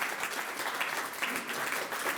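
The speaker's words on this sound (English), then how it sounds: "give her a round of applause." A round of applause at a Cork Jewish Digital Archive launch event: many hands clapping in a steady, even wash of sound that fills the short moment without pause.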